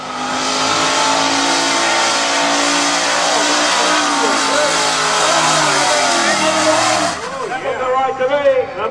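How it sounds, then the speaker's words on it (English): A turbocharged small block Ford street car does a power skid at a Power Cruise event, its engine roaring loud and sustained with tire squeal for about seven seconds before it drops back to rougher revving. "Check out this power skid"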